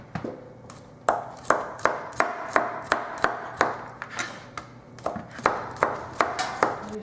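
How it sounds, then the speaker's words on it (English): A knife chops garlic on a cutting board in a steady run of about twenty crisp, evenly spaced knocks, close and distinct with no talking over them. "And the garlic, you want to chop it up in pieces also."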